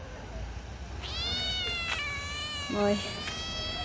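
A cat meows on a road at night, a drawn-out harmonic call followed by a shorter one, close and clear over steady background noise, with someone speaking briefly around it.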